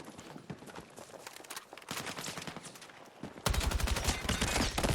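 Bursts of rapid gunfire from a Battlefield 6 battle royale match (REDSEC), dense overlapping shots that build to a loud, sustained volley near the end.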